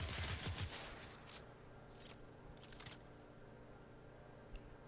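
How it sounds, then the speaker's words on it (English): Alt-fire barrage from a weapon in the video game Warframe: a dense, loud volley of rapid shots at the start, followed by a few shorter bursts and fainter firing later. "Now, alt fire fires a barrage."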